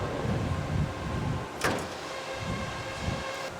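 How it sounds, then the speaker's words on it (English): The work station door of a Danfoss load machine is unlocked and opened, giving a sharp click-like transient in the middle amid a steady mechanical hum and low rumbling motion. "hit work set station door unlock and open up your door all the way"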